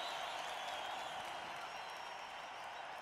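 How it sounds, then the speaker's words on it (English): A concert crowd at a show in Morocco in 2006 applauds Moroccan musicians with a steady, dense roar of clapping that holds evenly throughout. "Je voudrais vraiment qu'on les applaudisse très fort, beaucoup plus fort que ça"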